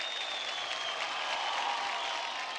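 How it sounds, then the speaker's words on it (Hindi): Audience applause for the singer Nakul on a televised singing competition stage, a dense, steady wash of clapping filling the whole stretch at moderate level with no talk over it. "एक बार जोरदार तालियां नकुल के लिए"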